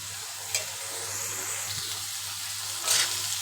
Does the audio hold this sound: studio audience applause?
no